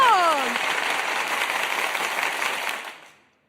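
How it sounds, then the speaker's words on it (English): A canned applause sound effect of crowd clapping, heard as a steady dense wash for about three seconds before it fades out, with a brief voice-like tone at the very start. "I've been wanting to use the applause sound effect"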